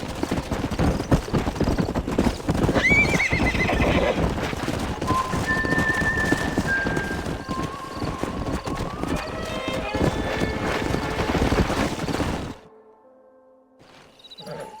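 Horses in the video game Red Dead Redemption gallop with rapid clip-clopping hooves and occasional whinnies, loud and close, before the hoofbeats cut out near the end.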